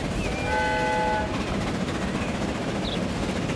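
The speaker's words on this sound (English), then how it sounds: "Plenty of whistling going on, just because there's lots of crossing points." A steam locomotive in the railway game Transport Fever 2, running on a UK main line, sounds a loud, steady multi-tone whistle for about a second. The whistle sits over the constant rumble of the moving train.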